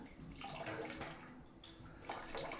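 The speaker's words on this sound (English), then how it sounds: "I'm going to run water through the spigot" Water running through the spigot of a winemaking tank during cleaning, a steady close splashing rush that holds for about two and a half seconds, rising briefly near the end.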